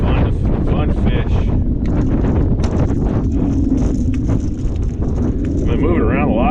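Strong wind buffeting the microphone on a fishing boat out on the water while white bass are being caught, a loud continuous rumble that runs throughout under someone talking.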